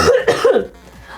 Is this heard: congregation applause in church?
no